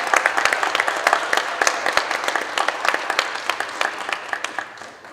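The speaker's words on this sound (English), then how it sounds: "can you give them a round of applause?" An audience at a community college adult education graduation ceremony claps steadily, with loud, continuous applause that tapers off slightly toward the end.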